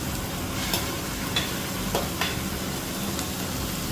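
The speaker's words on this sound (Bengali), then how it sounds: "এখন আমি এর মধ্যে দেব টমেটো কুচানো।" Chopped tomatoes, three of them, frying with softened onions in a pan for a mixed daal fry with egg: a steady close sizzle with a few soft stirring scrapes, no talking.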